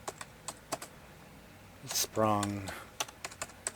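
Crisp keystrokes on a computer keyboard tap out an irregular rhythm, close and clear, broken briefly by a short spoken word in the middle.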